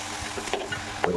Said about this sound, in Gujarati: મરચાંને તેલમાં શેડવાનું છે.